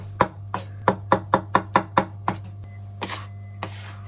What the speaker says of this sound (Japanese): 水煮のトマトもヘタを取ってみじん切りです。